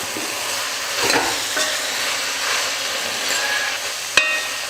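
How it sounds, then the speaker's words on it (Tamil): Eggplant curry with masala sautéing in a pan, a continuous close sizzle with occasional stirring scrapes and one sharp clink of a utensil near the end. "மசாலா சேர்த்ததுக்கப்புறம் நல்லா வதக்கிக்கலாம்."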